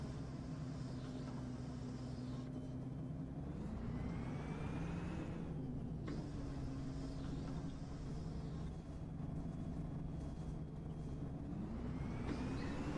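A city bus in OMSI pulls away from a stop, its engine droning and rising in pitch through each gear before dropping back at the shifts, steady and close with no talk.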